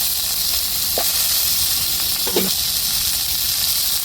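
Tomatoes dropped into a frying pan with onions and garlic give a steady, loud hissing sizzle that fills the whole stretch, with a couple of faint clinks partway through.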